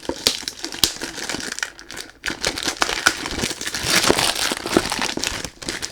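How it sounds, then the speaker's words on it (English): Crinkling packaging while a perfume box, Granado Tuberosa eau de toilette 100 ml, is unboxed: dense, irregular crackles and rustles of wrapping handled close up, continuous for several seconds with no talk. "Sorry about the noise when you do unboxing"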